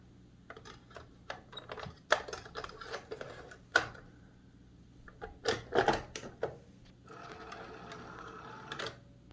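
A Zenith Betamax VC1600 video recorder loads a tape with a series of quiet mechanical clicks, whirs and clunks in irregular bursts, close and fairly faint.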